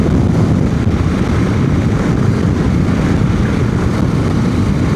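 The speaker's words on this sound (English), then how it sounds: "I get to be out in and on two wheels fighting the wind a little bit, if you can pick that up on the camera" Steady, loud broadband wind buffeting from riding a motorcycle on a commute, a constant roar with no breaks and no talking.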